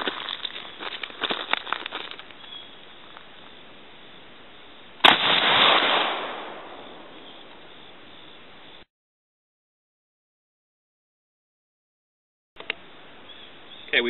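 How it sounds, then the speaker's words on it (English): Shotgun fired at a 10-yard pattern target outdoors, a single sharp loud blast followed by a short decaying roar, with softer crackling sounds before it and silence later. "We're going to now take a shot at 10 yards and look at the distribution of the shot shape."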